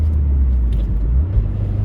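A right-hand-drive Japanese-market Toyota Altezza engine drones low and steady from inside the car while driving, a constant rumble with a slight swell near the end and no talking.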